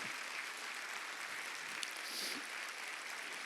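Church congregation applauding, a steady, dense wash of clapping from a large crowd that continues unbroken throughout.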